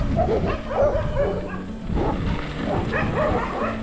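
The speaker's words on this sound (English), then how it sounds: "We do hear dogs." Several dogs bark and yip in overlapping bursts, fairly close and excited, with whimpering mixed in throughout.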